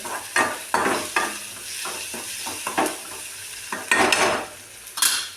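Cucumber bhaji sautéing in a pan, with repeated spatula stirs and scrapes against metal over a soft sizzle, close and fairly loud, in a rhythmic series of bursts with no talking.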